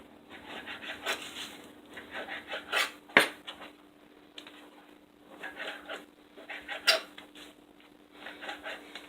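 Food is chopped by hand on a board in a home kitchen, producing irregular knife knocks and scraping strokes with a few sharper clacks, close and moderately quiet, without speech.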